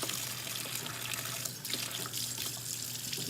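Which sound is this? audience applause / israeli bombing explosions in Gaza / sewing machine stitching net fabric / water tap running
water tap running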